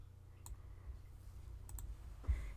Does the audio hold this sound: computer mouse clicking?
yes